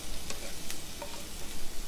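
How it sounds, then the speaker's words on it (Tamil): Steady hissing sizzle of chopped green chilies frying in hot oil, with a few light stirring scrapes in the pan, close and continuous. "இப்போ இதில் நம்ம நறுக்கி வச்சுருக்க பச்சை மிளகாயை சேர்த்துடலாம்"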